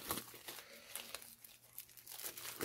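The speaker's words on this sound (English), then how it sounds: "I'm just going to open the plastic because these are wrapped in plastic." Crinkling and tearing of plastic wrapping being opened on a tarot card deck, close and fairly quiet, with irregular crackles throughout and no talking.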